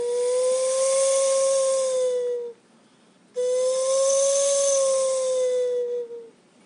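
Two long, loud blasts of a steam locomotive's three-tone whistle with a steady, slightly falling tone, separated by a short gap, sounding alone.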